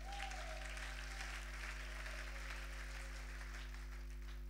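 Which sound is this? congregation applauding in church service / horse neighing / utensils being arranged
congregation applauding in church service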